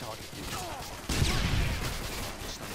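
A UMP submachine gun fires in Modern Warfare 2, heard as dense, rapid bursts of shots. They are loud and close, mixed with other game noise, and the firing grows heavier past the first second.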